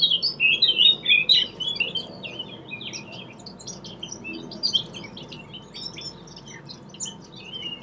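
Birds chirp and tweet outdoors in quick bright bursts, loudest at the start and then scattered and softer over a low background hum, with no voices.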